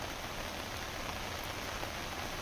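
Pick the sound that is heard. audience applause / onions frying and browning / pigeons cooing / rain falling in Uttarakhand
rain falling in Uttarakhand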